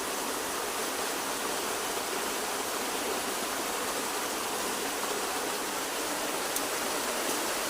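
A clear stream rushes steadily in a continuous broadband wash of flowing water, even and unbroken throughout, with no voices.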